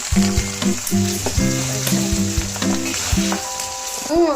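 Pulihora ingredients fry in a pan, browning with a continuous sizzle while steady tonal hums and a few stirring knocks sound alongside. The sound is close and moderately loud, with no talking.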